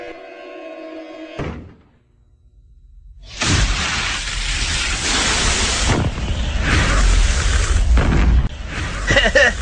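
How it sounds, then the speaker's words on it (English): A nuclear bomb explosion sound effect: after a short tone and near silence, a huge roaring blast erupts and rumbles on, loud and sustained. "I just survived a nuclear explosion in a fridge!"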